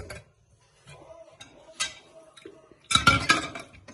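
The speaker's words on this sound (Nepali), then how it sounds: "भाँडा धुनुभएको अनि ल राम्रोसँग धुनुहोस् ल" A young girl washes dishes, with scattered clinks and clatters of pots and utensils, light taps, then a louder burst of clanking near the end.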